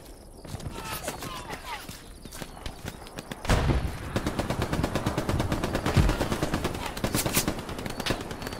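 Bursts of gunfire in a first-person shooter game: sharp cracks and rapid strings of shots at moderate distance, spread over several seconds alongside clattering footstep-like noises.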